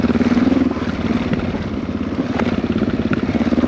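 Motorcycle engine running steadily after being restarted during an off-road ride, a loud, close, rhythmic throbbing idle with no talk over it.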